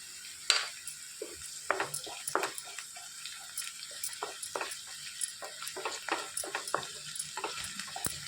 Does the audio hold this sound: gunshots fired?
no